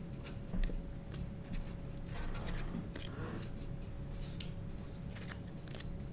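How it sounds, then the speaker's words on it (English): A deck of cards being shuffled during a card game, a soft riffling rustle repeating in quick bursts over a steady low hum, fairly quiet and close, with no talking. "So we just shuffle our deck"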